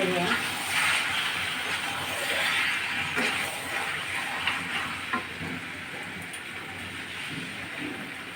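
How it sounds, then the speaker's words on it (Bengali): Hot water poured into a pan of chicken frying in its released oil, producing a loud, continuous hissing sizzle that stays close and steady throughout. "গরম জল দিয়ে দিচ্ছি"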